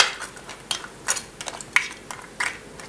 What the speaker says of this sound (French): Alors la crème fraîche, vous la tournez un peu quand même